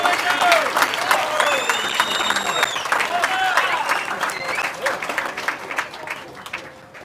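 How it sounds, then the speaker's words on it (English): An audience at a celebration-of-life gathering at Ala Moana Beach Park claps in sustained applause that tapers off toward the end, with a few voices calling out over the clapping. "One more round of applause for Uncle Wendell."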